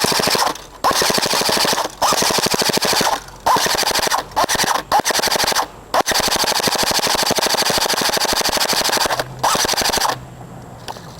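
A Crosman Pulse R74 air gun fires at a can in rapid, near-continuous strings of loud snapping shots, broken by brief pauses between bursts.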